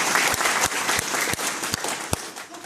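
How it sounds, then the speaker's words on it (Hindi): At a business seminar in Delhi, the audience gives a few loud, slow, separated claps in an even rhythm over the murmur of the crowd. "तो सभी कंज्यूमर बैठो, अपनी बजाओ ताली फिर।"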